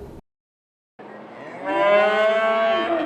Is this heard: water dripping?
no